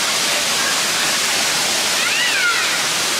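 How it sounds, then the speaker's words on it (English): A waterfall rushes in a loud, steady, unbroken roar on a hiking trail, with a faint animal-like cry briefly rising above the noise. "I'm going to head over to the waterfall"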